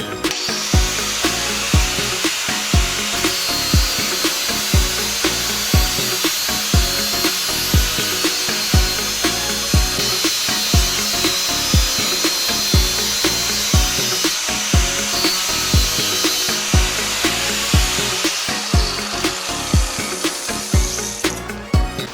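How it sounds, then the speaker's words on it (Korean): Continuous harsh grinding of a steel golf wedge's sole against an abrasive wheel, loud and steady with rhythmic pulses as the club is pressed and lifted, no voices. "바운스 작업을 한번 해서 다시 한번 시타를 해보겠습니다"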